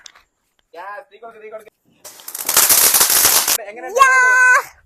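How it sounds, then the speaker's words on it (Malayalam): Brief speech, then a loud burst of rapid crackling Vishu firecrackers in Kerala lasting over a second, followed by a shout and a high-pitched exclamation. "ചറവറ ചറവറ പൊട്ടിക്കുന്ന പടക്കമാണ് അപ്പൊ ഇത് നമ്മൾ കത്തിക്കാൻ പോവാണേ"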